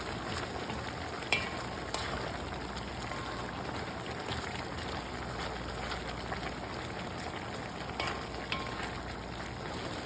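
Onion and julienned vegetables stirred in a hot pan for beef fajitas, a soft steady sizzle broken by light scraping and clicks of the utensil, fairly quiet and close, with no talking.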